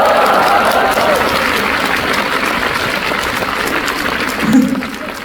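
Applause from a live concert audience at MacPherson Stadium during a show, a steady dense clatter that fills the whole stretch and swells briefly near the end.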